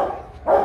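Adult dog barks twice, sharply and close, at a puppy.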